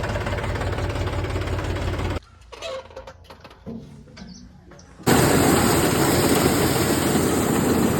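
A loud tractor engine hitched to a corn thresher runs steadily, cuts out to quieter clattering for a few seconds, then roars back even louder and keeps running.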